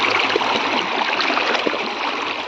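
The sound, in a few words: water filling in and flowing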